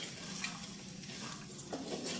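Mushrooms frying in a pan with chilli powder, salt and masala, a soft, faint sizzle with light stirring scrapes and a utensil clink, heard alone.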